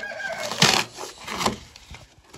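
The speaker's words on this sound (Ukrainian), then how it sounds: "Одну качечку тільки туди запускай." Young Muscovy ducks in a transport box cheep and call in a few sharp bursts, close and fairly loud, with rustling and handling noises between them.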